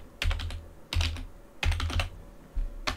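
Close, crisp clicks of a computer keyboard come in short bursts of rapid keystrokes with brief pauses between them while a user name is typed.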